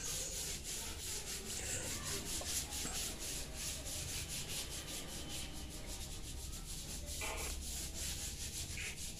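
Fingers rub ash across a sheet of paper to bring out a black-and-white catfish drawing, a steady, close, dry scratching and brushing that continues without pause and with no talk.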